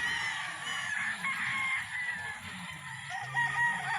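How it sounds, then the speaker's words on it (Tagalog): Many chickens cluck and roosters crow together, a busy overlapping chorus of fowl with no talking. "ang daming manok rito"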